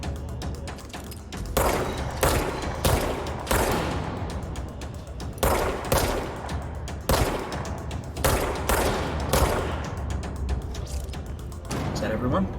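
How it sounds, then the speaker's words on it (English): Repeated blasts of shotgun fire in the video game Control, loud broadband bursts spaced irregularly across the clip amid ongoing game combat noise, with a player talking over it. "That's a shotgun."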